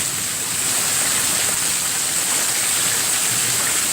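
Heavy rain pours steadily during a severe thunderstorm, heard outdoors near a street as a dense, continuous hiss with no break and no talk over it.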